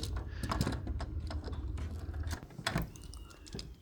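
Small metal screw turned into a titanium scale on a Hinderer Jurassic folding knife, a close, quiet run of fine clicks and scratchy driver contact lasting several seconds with faint room hum underneath.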